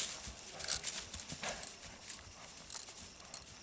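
A pinto overo horse trots at an easy pace, its hooves clip-clopping in a soft, irregular rhythm at moderate distance over a faint outdoor background.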